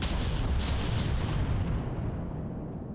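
Mortar shells striking a battleship in From the Depths, loud rumbling blasts that roll into a sustained low roar and slowly fade.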